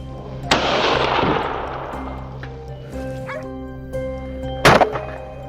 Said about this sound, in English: the sound of gunfire erupted instantly